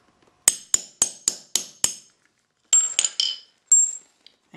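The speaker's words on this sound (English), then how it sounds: "grab your hammer again, or your mallet, and give it a few taps" A hammer or mallet strikes a metal rivet setting tool against an anvil with six sharp, evenly spaced taps, then a short pause and four more ringing hits, close and loud with nothing else heard.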